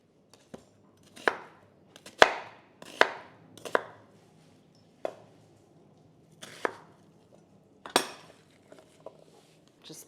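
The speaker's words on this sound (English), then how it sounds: "you just want to cut off the ends here, the root part of it, just so that they can separate once you cut the onion pieces" A kitchen knife chops the root ends off an onion on a cutting board while kung pao chicken is prepared. About a dozen sharp, close, irregular chops ring out against quiet, with no talking.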